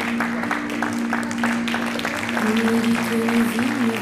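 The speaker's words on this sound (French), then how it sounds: "je refais mon entrée sous vos applaudissements" An audience at a comedy show clapping as a comedian makes her entrance, continuous applause under loud punchy entrance music with a steady tone running through.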